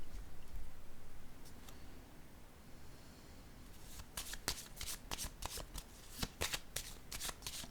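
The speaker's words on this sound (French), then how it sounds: "Je vais piger une autre carte." Tarot cards are handled during a reading, first a quiet stretch of faint rustle, then a rapid flurry of sharp, close riffling snaps as the deck is shuffled and a card is pulled.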